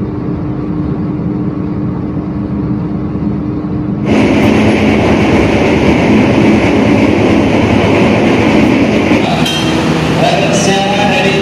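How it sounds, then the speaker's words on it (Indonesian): The KA Jaka Tingkir passenger train pulls out of Gombong station in Kebumen at night. A steady low rumble swells abruptly into loud, broad roaring motion noise that holds for the rest of the stretch, with no voices. "KA Jaka Tingkir kembali diberangkatkan dari stasiun Gombong, Kabupaten Kebumen jam 1 lebih 42 menit"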